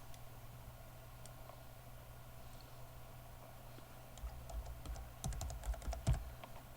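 Password keys tapped on a computer keyboard, faint quick clicks over a steady low hum, growing a little busier toward the end.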